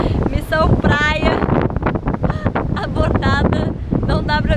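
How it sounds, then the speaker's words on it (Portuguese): Strong wind buffeting the microphone at a beach on Ilha de Comandatuba in light drizzle, a constant roar beneath someone talking throughout. "Não dá pra ficar aqui, tá tipo ventando muito."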